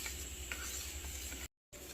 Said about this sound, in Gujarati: અહીં આપણે થોડો ચણિયાનો લોટ નાખી સારી રીતે મિક્સ કરી લઈશું।